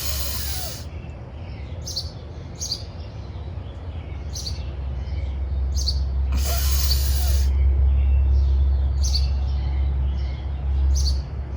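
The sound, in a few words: birds chirping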